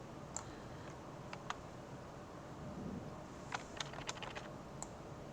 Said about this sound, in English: I'm using my keyboard shortcuts there.